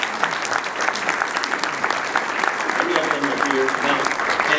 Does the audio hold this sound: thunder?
no